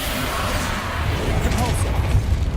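Spells Confringo and Expelliarmus cast in the Hogwarts Legacy video game, heard as a dense, continuous wash of magical blasts and crackling impacts with a steady low rumble throughout.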